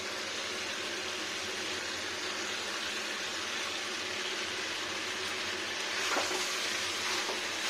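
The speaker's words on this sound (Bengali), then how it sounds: "জিরার পেস্টটাকেও ভাজা ভাজা করবো।" Steady, dense sizzling of raw cumin paste frying in a pan, continuous and close, with a faint stir or clink near the end and no talking.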